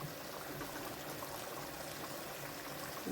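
Water poured into a cooking pot while making lagman, a faint, steady trickling stream that runs continuously and alone at low volume.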